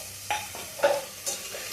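A spoon stirs spices through baby-food moong dal rava kichadi in a pot, giving a few soft, separate scraping strokes close by with a faint simmer underneath.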